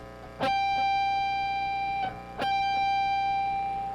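Two electric guitar pinch harmonics, each a squealing high overtone ringing out over a distorted note, sustained and loud, with a short gap between them.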